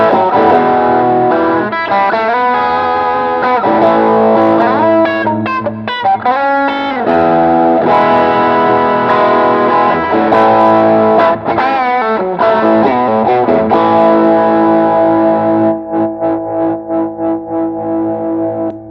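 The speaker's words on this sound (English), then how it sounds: "If I step on a distortion pedal" A Fender Deluxe Nashville Telecaster electric guitar plays loud, sustained distorted lines and chords through a distortion pedal, screaming with a touch of chorus and echo, running continuously before the notes thin into separate plucks near the end.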